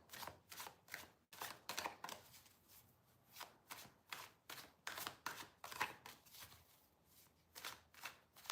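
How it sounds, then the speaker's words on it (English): A deck of tarot cards is shuffled by hand, with quick rhythmic riffling bursts repeating through the whole stretch, close and crisp against a quiet room. "shuffle on my cards."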